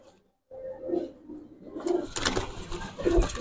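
Pigeons kept for sale coo close by in a few low, throaty rolling calls, rising in loudness toward the end of the short stretch.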